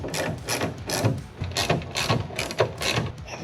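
Self-tapping screws being driven into an old door, heard as a steady run of rapid ratcheting, grinding clicks repeating in short bursts, fairly close and continuous with no talking.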